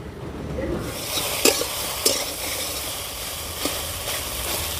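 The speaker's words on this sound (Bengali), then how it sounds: "কচুরলতি অনেকটা ভেজে নিয়েছি।" Kochur lati, taro stolons, frying in a pan: a steady hiss of sizzling starts after a brief quiet moment, with a few sharp scraping stirs standing out above it, close up and without speech.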